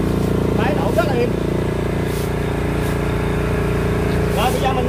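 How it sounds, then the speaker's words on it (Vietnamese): A small sound-insulated pressure washer engine hums steadily and quietly throughout, with someone talking over it. "Máy hoạt động rất là êm."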